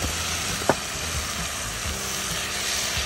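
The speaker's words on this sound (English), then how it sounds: "Now it's time to add a little bit of tomatoes." Tomatoes dropped into a camp pan already frying shallots, garlic and mushrooms, with a steady close sizzle throughout and one brief clack near the start.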